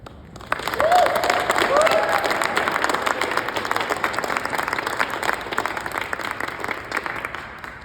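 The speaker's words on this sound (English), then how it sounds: "join us in another round of applause to congratulate our newest captain, Patricia Hafoka" A crowd at an Air Force promotion ceremony for a newly promoted captain breaks into sustained applause, dense clapping that swells quickly, holds steady, then tapers slightly toward the end.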